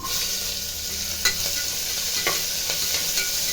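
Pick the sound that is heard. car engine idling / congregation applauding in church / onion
onion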